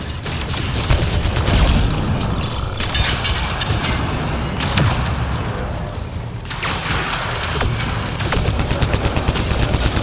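Sustained turret gunfire in the video game Mass Effect: dense, rapid automatic shots and booming impacts rattle continuously and loudly for the whole stretch.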